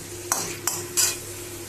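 Pumpkin with shrimp being sautéed in a pan, three quick scraping strokes of a spatula against the metal over a low background hiss, close and with no talk.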